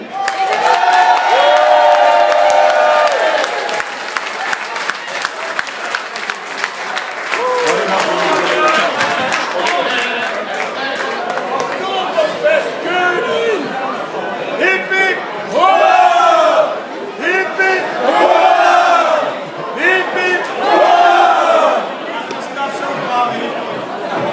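An outdoor audience at a Dutch schutterij festival in Noorbeek breaks into loud cheering, whooping and applause for the new shooting king, with shouts and chatter rising and falling in bursts throughout.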